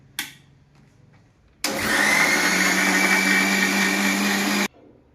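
A kitchen mixer grinder grinding green chutney with garlic and water whirs loudly for about three seconds in one steady burst, then cuts off abruptly.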